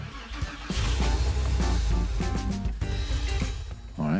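A freshly rebuilt Porsche 911 Carrera M96 flat-six runs close by with a deep, steady rumble and a rough, uneven note throughout.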